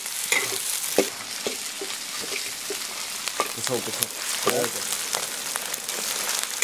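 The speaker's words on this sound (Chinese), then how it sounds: "豆瓣酱下锅的时候要开小火" Sichuan doubanjiang bean paste fries in a wok over low heat for braised bamboo rat, giving a steady soft sizzle broken by repeated scraping stirs, with a voice speaking briefly.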